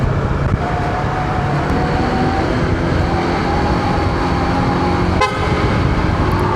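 A Honda ADV 160 scooter horn sounds in short toots over steady engine and road noise on a ride toward Kaybiang Tunnel, with one sharp burst near the end.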